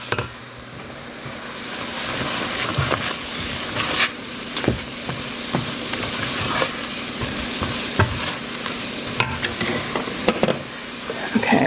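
Milk and flour bubble and sizzle in a hot pan for chipped beef gravy while a utensil stirs with steady scraping, punctuated by sharper clinks against the pan.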